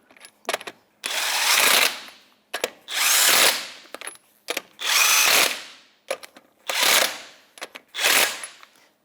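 A power tool with a 19mm socket snugs up wheel lug nuts on a 2008-2012 Jeep Liberty in five loud, close bursts of whirring impact rattle, each lasting about a second, separated by brief clicks and pauses.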